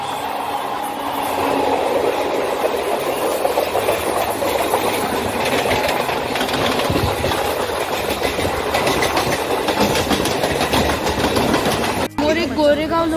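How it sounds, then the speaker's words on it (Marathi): A Churchgate fast local train overtakes on a Mumbai suburban rail line near Bandra, a loud continuous rumble and wheel clatter heard close by from another moving train, with some speech underneath. "समोर एक fast local, Churchgate fast local आम्हाला ओव्हरटेक करते।"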